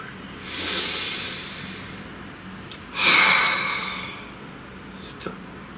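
Two deep, slow breaths, each a long airy inhale followed by a softer exhale, close to the microphone with no other sound behind them.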